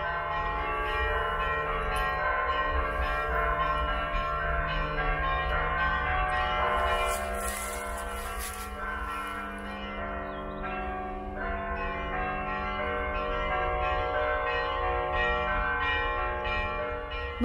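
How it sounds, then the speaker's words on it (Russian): Church bells ring out at a cemetery at night, loud and resonant, with overlapping tolls blending into a sustained, shimmering wash of tones that carries through the whole stretch. "нам даже повезло, посчастливилось послушать колокольный звон"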